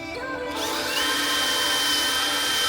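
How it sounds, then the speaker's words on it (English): A power drill cleaning a metal part on an Alfa Romeo GTV whirs steadily and loudly, its high-pitched grinding whine continuing without pause. "The drill wasn't quite cutting it"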